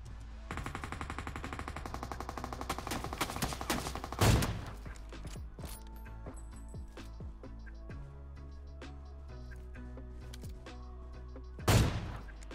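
Rapid automatic gunfire in PUBG Mobile, a fast rattling burst in the opening seconds, then scattered distant shots against a steady background, with two louder thumps along the way.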